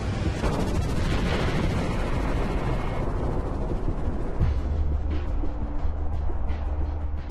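A magma chamber blowing apart as a dramatized sound effect, a loud continuous roaring rumble with crackling, gunfire-like bursts throughout that thins slightly toward the end.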